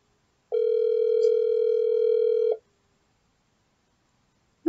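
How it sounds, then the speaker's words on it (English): A single long ringback tone sounds during an outgoing phone call, steady and loud for about two seconds, then silence before another tone begins at the very end. "let me give you a quick ring"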